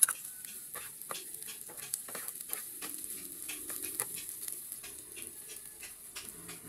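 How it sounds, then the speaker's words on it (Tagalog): Ginger and onion sautéing in hot oil give a faint, steady sizzle with soft crackles and the scrape of stirring in a pan, quiet and close. "magpainit tayo ng mantika. Una natin igigisa ang luya. Isusunod naman natin ang sibuyas."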